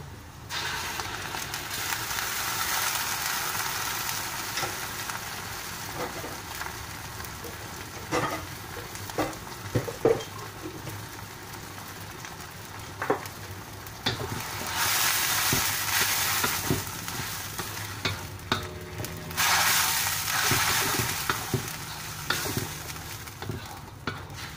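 A blended spice paste fries in a pan until crisp for a meat curry puff filling, a steady bubbling sizzle punctuated by repeated spatula stirs and scrapes, swelling louder in two bursts.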